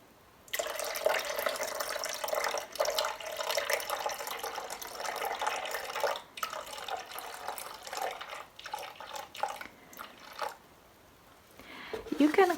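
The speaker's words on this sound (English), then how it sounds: "then I'm gonna put some distilled water" Distilled water poured into a container for making charcoal goat milk peppermint soap, a steady close liquid splash running for about ten seconds with brief breaks, ending in a few faint clinks.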